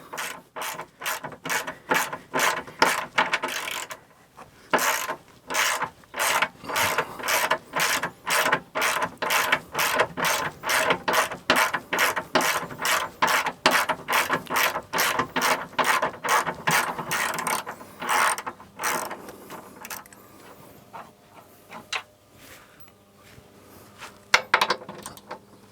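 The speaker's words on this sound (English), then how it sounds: "They're snug, but not too bad." Hand ratchet loosening snug skid plate bolts on a 2021 Jeep during a transmission skid plate install, a steady run of close, crisp clicking strokes with brief pauses between bursts, no talking.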